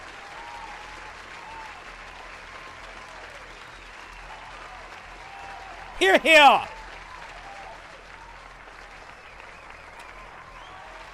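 A crowd claps steadily at a moderate distance, and a few voices call out briefly midway through.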